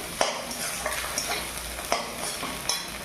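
Pasta sauce with chopped green chilli and fried egg being stirred in a pan, a steady sizzle under repeated scraping strokes, with a few sharper clacks of the utensil against the pan.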